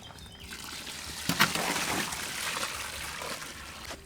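Water poured into a dry refractory cement mix of Portland cement, fire clay and sand for a wood-fired pizza oven, a steady trickling pour with a brief splashy peak, close and alone.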